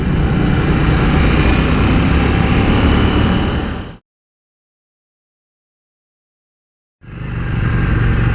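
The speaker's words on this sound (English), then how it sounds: "What a beautiful time of day to be out on a bike." A KTM 790 Duke motorcycle engine drones steadily while riding, loud and continuous, cutting out completely for a few seconds midway before resuming.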